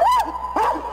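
Dogs at the Mangabeiras official governor's residence in Minas Gerais give two short, high yipping barks, each with a rising, whining tone, close and distinct against a low background hum.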